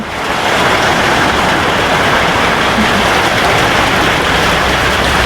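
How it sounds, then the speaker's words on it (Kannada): Heavy rain pours down steadily, a loud, dense, unbroken hiss that fills the whole stretch with no pauses. "ಇಷ್ಟು ಜೋರು ಮಳೆ ಬರ್ತಿದೆ"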